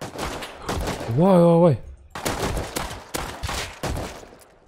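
Gunfire from the survival game Rust comes in sharp repeated bursts spread across the moment, mixed with lively talk between players and a brief vocal exclamation.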